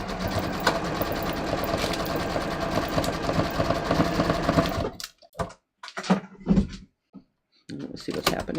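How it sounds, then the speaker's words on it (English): A home sewing machine runs a triple zigzag stitch on fabric with an open toe foot, a steady dense whir for several seconds, then stops and gives way to short handling clatters and a voice speaking. "I'm just going to triple zigzag this."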